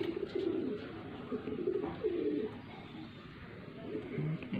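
A female breeding pigeon from Faisalabad gives repeated low, throaty coos close by. Someone talks quietly at times in the background.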